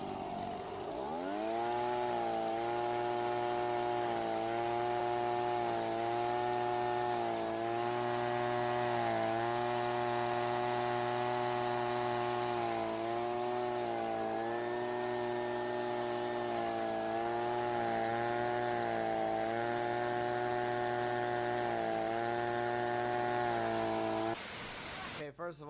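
A leaf blower runs steadily and loud for about twenty-four seconds, its engine drone holding a constant pitch with slight periodic wavering, then cuts off abruptly near the end.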